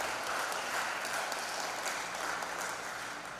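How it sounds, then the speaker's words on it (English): Crowd at a community gathering gives a senator a round of applause, a soft, diffuse wash of many hands clapping that sounds somewhat distant and holds steady, easing slightly toward the end. "I think we could give him a round of applause for that"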